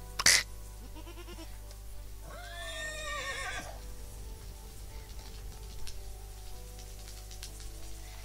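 Goat bleating in the video game Rising World: a clear, wavering animal call of about a second, preceded by a sharp click, over a steady low in-game hum with faint scattered ambient noises.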